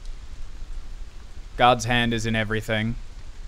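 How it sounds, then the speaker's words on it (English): Steady rain pouring down as a constant soft hiss with no clear thunder, while someone speaks clearly over it for a moment. "There's like a thunder in the distance and rain pouring down."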